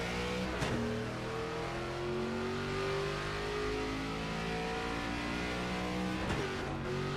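Race car engine in a Kansas racing video game accelerating hard, a loud continuous whine climbing steadily through the gears with a couple of brief shift breaks, alone with no talk.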